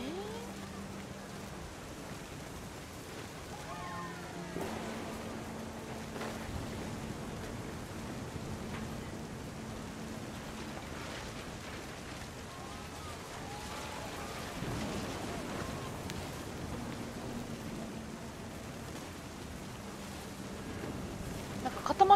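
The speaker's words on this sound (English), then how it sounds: "The thunder sounded much too close and full of angry power." Steady thunderstorm from the game What Remains of Edith Finch: constant rain hiss on surfaces under rolling, fairly close thunder, with faint tonal game sounds woven through and a swell in intensity at the very end.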